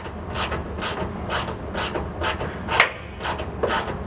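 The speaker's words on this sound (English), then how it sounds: "So let's get started with this ratchet." A ratchet tightens a bolt on a sliding truck bed tray, giving a steady run of about nine rhythmic clicking strokes, close and clear.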